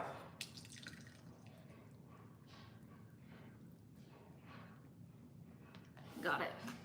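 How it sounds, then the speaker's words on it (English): Two cups of buttermilk are poured into a large liquid measuring cup, a faint, soft trickle with light dripping, and a voice murmurs quietly underneath. "We're gonna use 2 cups of buttermilk. So we're adding it to a large liquid measuring cup."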